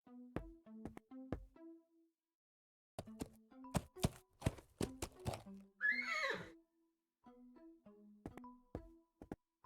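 A horse in the Willy Morgan point-and-click video game whinnies and snorts over clipped hoof knocks and thuds, loud and close with brief gaps between bursts.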